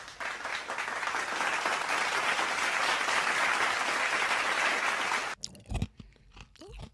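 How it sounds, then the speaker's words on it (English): Sustained audience applause for a guest named Gigi on a live call-in podcast, a dense steady wash of clapping lasting about five seconds before cutting off abruptly into a few scattered sounds. "Can I give you a round of applause"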